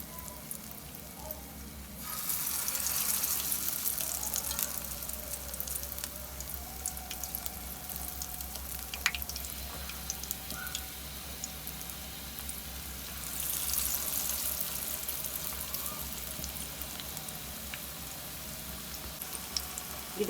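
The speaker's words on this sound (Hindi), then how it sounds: "ये देखिए पैन में हमने ऑयल डाल दिया था, गरम करने के लिए रख दिया है। अब एक एक करके ये देखिए इसमें कबाब डालते जाएंगे।" Potato kababs fry in hot oil in a pan, giving a steady close sizzle with soft crackles that swells louder as the patties go in one by one, and no voices heard.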